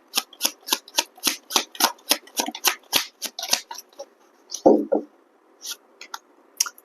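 Tarot cards are shuffled in a steady run of crisp, close riffling snaps for about four seconds, followed by a few looser taps and slides of the deck.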